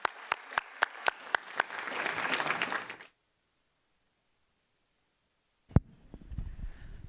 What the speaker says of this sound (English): let's give a big round of applause to our great panelists here.